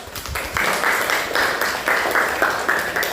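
An audience claps for a presenter with a steady patter of hands at moderate loudness. The applause keeps going for a few seconds, and faint voices sit underneath.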